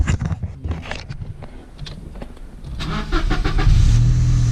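Toyota Aygo engine starting up: a few clicks and rattles build to a crank, then the engine catches near the end and settles into a steady close idle.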